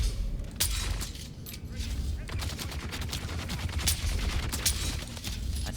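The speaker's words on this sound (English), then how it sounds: "I think I shot the wall there" Dense rapid gunfire in a desert video game crackles continuously, with sharp impact hits against a wall and a steady rumbling backdrop throughout.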